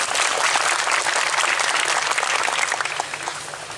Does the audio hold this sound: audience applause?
yes